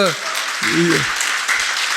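An audience claps at a lecture in a hall, a steady wash of hand applause running under a speaking voice.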